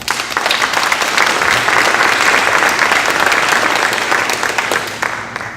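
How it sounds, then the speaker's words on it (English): An audience at a school district community forum applauds loudly, with dense, sustained clapping that holds steady for several seconds before tapering slightly. "what I want you to do is applaud not only yourselves, but this district and all the teachers and staff"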